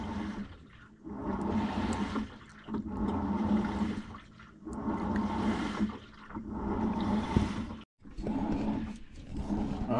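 A Samsung top-load washing machine, model WA50R5200AW with a 5.0 cu. ft. drum, in its wash cycle, the drum turning left and right in repeated whooshing surges of sloshing water separated by short pauses.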